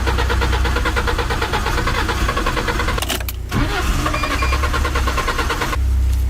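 A worn-out, run-down car engine being cranked again on another start attempt, a loud steady churning that runs for several seconds, breaks briefly, then resumes without catching.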